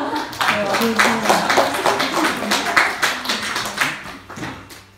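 Young adults at a church youth gathering clap to welcome a pastor, a lively crowd patter of hands with voices and cheering mixed through it, steady throughout.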